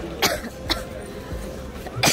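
Two or three short coughs with some throat clearing from a person in an airport terminal, close and fairly loud, spaced across a couple of seconds over faint room noise.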